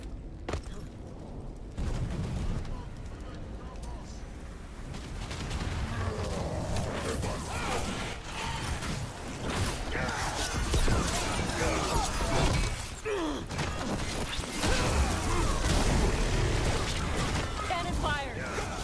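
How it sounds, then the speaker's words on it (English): Cannon fire in a video game: a dense stream of crashing, shattering blasts and booms rolls on steadily for the whole stretch, with people talking over the barrage. "Cannon fire! Here!"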